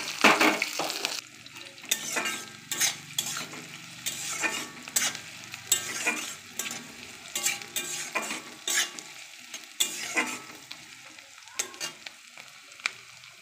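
Sliced onions fry in hot oil for mutton biryani, a steady close sizzle broken by repeated scraping and stirring strokes of a spatula against the pan.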